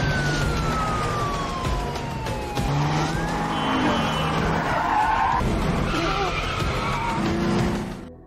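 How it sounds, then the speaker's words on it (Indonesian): Car chase from an action film, with screeching tyre skids, a falling siren-like wail and engine roar building into a loud, dense, continuous scene with no pauses. "Sherry membawa mereka untuk mengejar Marco hingga terjadi aksi kejar-kejaran"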